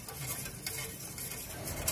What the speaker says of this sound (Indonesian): santan harus terus diaduk agar tidak pecah